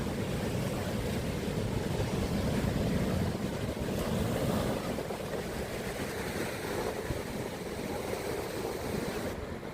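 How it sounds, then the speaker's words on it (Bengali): Waves wash onto the white sand of Jumeirah Beach on the Persian Gulf coast, a continuous broad surf rush mixed with wind buffeting the microphone, with no voices. "আমরা এখন জুমেইরা বিচে রয়েছি। এটি পারস্য উপসাগরের উপকূলে একটি সাদা বালির সমুদ্র"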